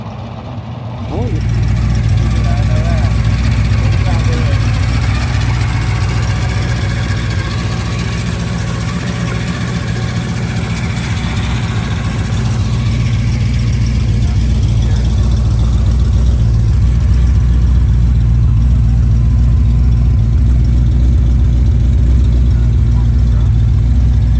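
A 1955 Chevy Cameo pickup's engine gives a loud, steady, low rumble in Ottawa, Kansas. It grows slightly fuller as the truck draws nearer and stays continuous throughout.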